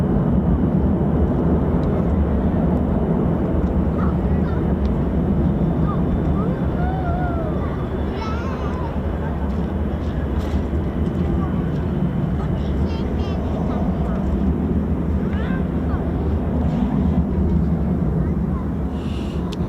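Military jet aircraft departing RAF Lakenheath, home of the 48th Fighter Wing flying F-15s and F-35s, give a steady, broad, distant roar that holds throughout amid wind noise, with faint voices and background sounds.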